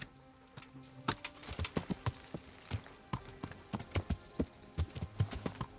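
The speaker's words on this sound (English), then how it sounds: "Jump on the horse." Horse hooves clip-clop steadily in the medieval role-playing game Kingdom Come: Deliverance, a rhythmic run of distinct, close hoof strikes with no talking.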